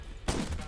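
Cartoon gun fire in The Crackpet Show, a bullet-hell roguelite video game: a sudden loud burst of shot noise that fills the rest of the brief moment after a quiet start.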